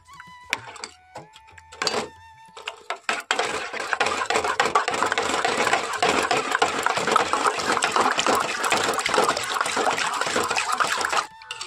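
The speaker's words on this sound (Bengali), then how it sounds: "এটাকে আরও পাতলা করব, আর তার জন্য ঠান্ডা জল এইভাবে দিয়ে দেব।" Cold water pours into thick mango pulp and is mixed in, a few clinks and splashes first, then a sustained burbling pour of liquid lasting several seconds before stopping.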